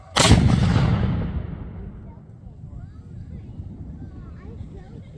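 A Civil War artillery cannon fired by reenactors at Washington Monument State Park, Boonsboro, lets out a single loud, sharp boom that rolls off into a long low rumble, followed by faint outdoor crowd noise.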